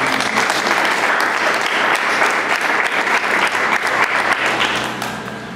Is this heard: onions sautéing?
no